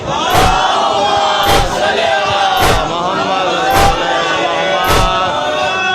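A large crowd in a Muharram mourning procession loudly chants salawat together, a dense roar of massed voices in unison with sharp rhythmic accents about once a second, close and continuous.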